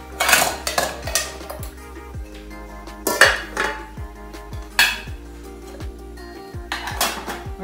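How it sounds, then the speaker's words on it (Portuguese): Ceramic dishes and cutlery set down one after another into a freshly cleaned kitchen sink, giving a series of sharp clinks and clatters with short pauses between them, close up and with no talking. "Só vou colocar a minha louça aqui"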